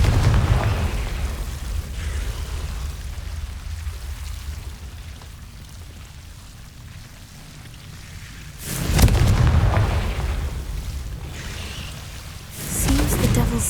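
Confringo blasting spell from the video game Hogwarts Legacy, a loud burst followed by a long fading rumble, then two more sharp bursts later on, with no talking.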